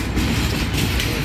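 Heavy rumbling rail noise with a rolling clatter of wheels, steady and loud throughout, as a PNWR log train with locomotives 3052 and 3053 runs close by at Hyacinth.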